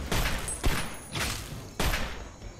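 Turret gunfire in Fallout 3, loud close bursts of rapid shots with heavy thumping impacts, three distinct volleys separated by short gaps.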